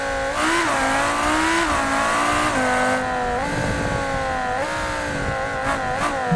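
Lamborghini Huracan in BeamNG Drive revving hard and loud through repeated gear changes, its engine pitch rising and dropping in waves while tires squeal briefly, with no talking.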